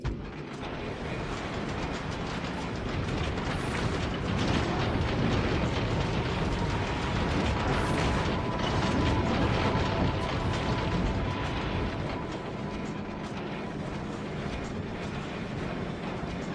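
Ship assembling from a blueprint in the Factorio video game, minus laser turrets, on the planet Fulgora: a dense, continuous rumbling wash of booming, mechanical construction noise that stays loud and steady throughout with no talking.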